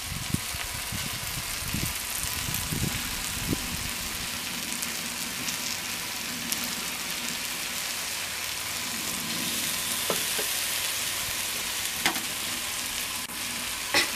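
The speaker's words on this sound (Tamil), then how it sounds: "இங்கே எண்ணெய் ஊற்றிக்கிறேன்" Oil hissing and sizzling in a hot pan for a village-style mutton leg roast, a dense continuous frying crackle with occasional sharper pops and stirring, close and steady throughout.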